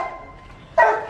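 A dog barks once, a short loud burst near the end, during a training session with a follower's dog; faint background noise comes before it.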